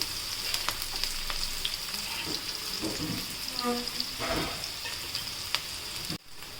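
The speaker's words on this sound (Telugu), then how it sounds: "రైస్ మంచిగా వేగాలండి బ్రౌన్ కలర్ అయిపోవాలి" Rice fries in a pan until browning for a gongura soya curry, a steady moderate sizzle with scraping stirs and a brief ringing tap, cutting off abruptly near the end.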